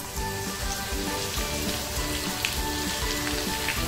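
Chopped garlic hissing and crackling in hot oil in a pan, a steady, even sizzle throughout with no voices.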